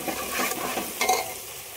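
Ground spice paste fries in a pan with a soft, close sizzle, punctuated by a few quick stirring scrapes.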